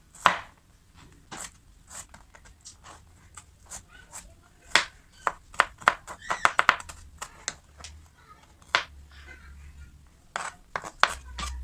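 A knife chops food on a board for a spicy fried egg, sharp uneven knocks coming in irregular bursts, sometimes rapid clusters, close and crisp over quiet background.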